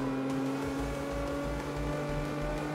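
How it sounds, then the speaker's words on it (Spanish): A car in the Carx Street driving game drives past with a steady, loud engine drone and whirring, with low rumbling underneath and no voices. "Ahí va el coche."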